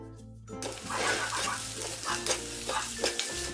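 Onions sautéing in a pan for a Kerala prawn ularthiyathu, a steady close sizzle with stirring scrapes and clinks running throughout, alone without talk.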